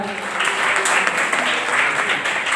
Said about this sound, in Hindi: इस नाम के लिए एक बार जोरदार तालियां बजाएं